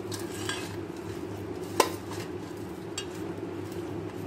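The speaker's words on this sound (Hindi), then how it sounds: "इसको आप हाथ से मिक्स करें अच्छी तरह, आपने इसको हाथों से मिक्स करना है।" Mango and chili pickle mixed by hand in a jar with mustard oil, a steady wet squelching and stirring with a single sharp click partway through.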